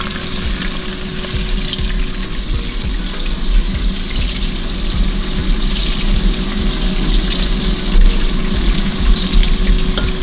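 Onions frying in a pan for a fish stew make a continuous, close, dense sizzle with bubbling crackle throughout, steady in loudness and free of talk.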